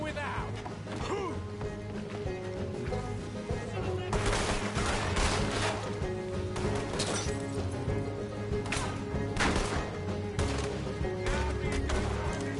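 Rapid gunfire from Red Dead Redemption 2 crackles in dense volleys over a steady game soundtrack, with heavier bursts of shots clustering midway and again near the end, while someone talks over the action.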